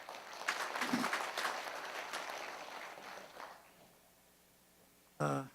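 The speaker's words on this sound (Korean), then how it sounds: "박수 한번 다시 보내겠습니다" An audience at a founding ceremony of a commemorative society applauds, a crowd of clapping hands that swells and then gradually tapers off, followed by a short loud burst of voice or sound at the end.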